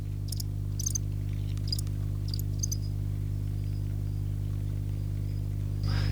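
Crickets chirp from plastic tubs, giving a series of short bursts in the first half over a steady low hum. The chirps then fade to faint, sparse calls, with no talk.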